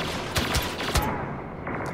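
EE3 blaster rifle fire in Star Wars Battlefront, a quick burst of three or four sharp, loud shots in uneven rhythm over constant battle noise, with another faint shot near the end.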